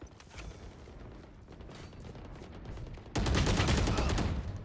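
Gunfire in the tactical shooter Valorant during a team deathmatch: a background clatter of shots, then a sudden loud burst of close rapid fire near the end.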